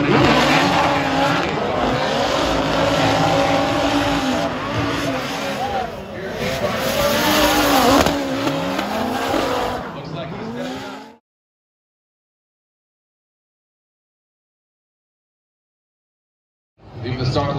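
Formula Drift race cars roar and squeal through the start chicane at Orlando, engines and tires loud and continuous with a commentator talking over them, then a sudden drop to silence before a brief return.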